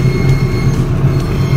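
An Argo Parahyangan passenger train climbs a tilted, uphill track near Padalarang, West Bandung, giving a steady, close, loud low rumble with a continuous rolling drone throughout.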